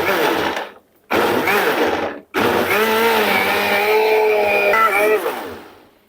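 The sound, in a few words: blender machine blending yogurt, gram flour and onion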